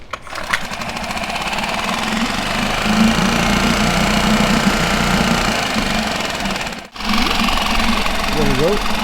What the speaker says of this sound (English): So I'm going to go ahead and start the motor